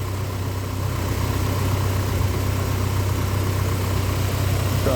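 Splash Sport engine idling steadily after its first crank on a correct ECU, a continuous low mechanical hum and vibration at close range, with no talk over it.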